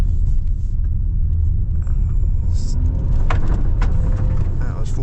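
A 2026 Hyundai Palisade 2.5T Hybrid accelerates at full throttle, heard from inside the cabin as a loud, steady, low engine and road rumble that holds for several seconds.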